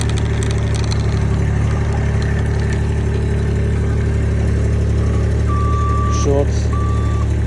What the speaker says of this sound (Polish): Do tyłu sygnał dźwiękowy.